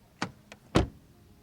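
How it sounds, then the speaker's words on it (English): Door of a 2023 Mercedes C43 AMG W206 shutting: a light click, a faint tick, then a solid, close thud of the door closing, with quiet surroundings and no talk. "Door closing sound."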